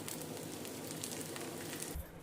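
Ghee sizzles under a crispy tomato dosa on a hot pan, a steady dense crackling hiss close by that cuts off sharply near the end, with no talking.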